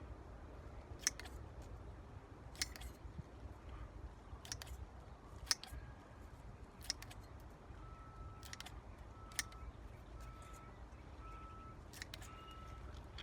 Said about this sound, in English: Let me just cut these in half.